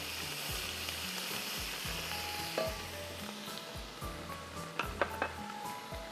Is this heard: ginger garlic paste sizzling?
yes